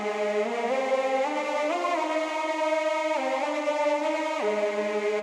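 A progressive house counter melody from a Pigments synth patch, a bright, buzzy lead stepping through sustained gliding notes in a slow phrase, steady and moderately loud with no voices.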